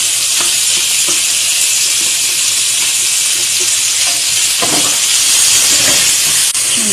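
Bottle gourd and tomato cooking in a pan, a loud, continuous sizzle and hiss of frying with occasional soft stirring scrapes, close up and unbroken for the whole stretch.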